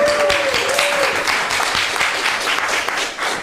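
An audience breaks into steady applause after a performance at a semiotics festival, dense clapping close and loud for a few seconds, with a brief voice heard near the start.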